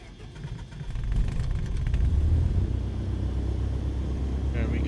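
Simulated Cessna 152 engine starting in Microsoft Flight Simulator, a low rumble building after a second into a steady close drone.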